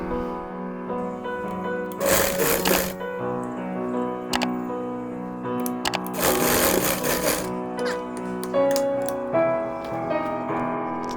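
A sewing machine stitches a top seam on a V-neck petticoat in two distinct whirring bursts, one short and one longer, over a steady tonal hum in the background.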